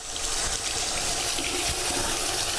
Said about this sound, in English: what I'm going to do is just rinse this off with plenty of flowing water